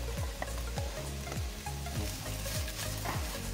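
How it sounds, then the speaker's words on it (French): Onions sweating in a cast iron cocotte after the meat was browned and degreased: a steady, close sizzle with repeated scraping stir strokes roughly every half second, no talking. "dans ma cocotte, je vais faire venir mes oignons. On va les faire suer 2-3 minutes."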